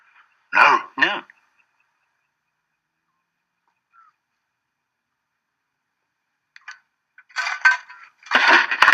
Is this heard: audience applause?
no